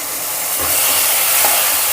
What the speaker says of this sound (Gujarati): હવે આપણે તેની અંદર આ રીતના થોડું થોડું દૂધ ઉમેરતું જશે